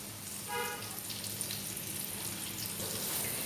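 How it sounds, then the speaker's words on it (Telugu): Onions for egg biryani fry in a pan with a steady, close sizzle that holds from start to finish, joined by a faint tone early on and a sharp tap at the very end. "ఫస్ట్ డైరెక్ట్గా నేను ఆనియన్స్ ఫ్రై చేస్తున్నాను"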